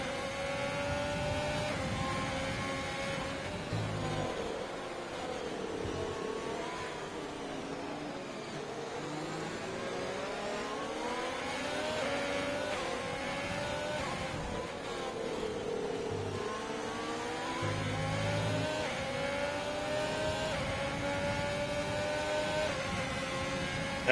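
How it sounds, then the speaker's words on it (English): A Ferrari-engined F3 race car revs through its range, a continuous high-pitched engine whine sweeping up and down in repeated rising and falling gear pulls, steady and fairly loud throughout. "Zentner really working the rev range of that Ferrari engine."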